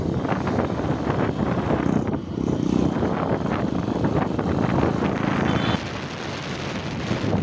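Loud, continuous motorcycle exhaust roar while riding on a Sunday ride, engine drone steady with wind rush over the microphone, dipping briefly and easing slightly toward the end.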